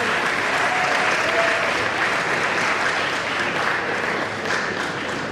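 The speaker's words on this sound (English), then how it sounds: "I believe our distinguished speakers deserve another round of applause." Sustained applause from a seated audience at a bar association law week event, dense steady clapping filling the whole stretch with no voices over it.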